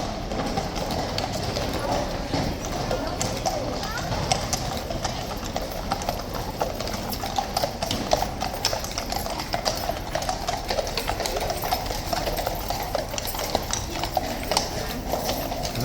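Horses' hooves clip-clop steadily on hard ground amid a busy outdoor crowd, the rhythmic clatter continuous and fairly close, with people talking throughout.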